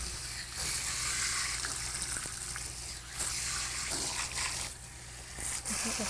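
Water runs from a tap at a salon sink, wetting hair in a steady hiss with brief breaks and shifts as the flow is moved, close and alone.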